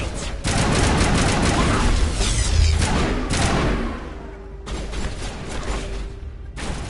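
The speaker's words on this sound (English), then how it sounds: "Let's switch up to an assault rifle." Sustained assault rifle fire in the video game Mass Effect, a dense continuous burst of rapid shots lasting several seconds, followed by softer intermittent firing and game ambience.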